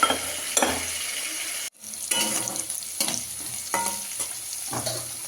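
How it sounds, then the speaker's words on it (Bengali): Potatoes fry in oil in a kadai. A close, steady sizzle is broken by several rhythmic scraping stirs of a spoon against the pan. "এই যে আলুটা ভাজা হচ্ছে"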